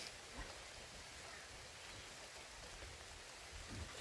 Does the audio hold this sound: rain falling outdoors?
yes